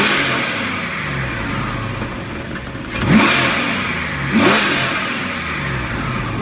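A Chevrolet LSx 5.3-litre V8 on a test stand idles steadily, then revs sharply twice to about 6,000 RPM, rising and dropping quickly back to idle each time; loud and close.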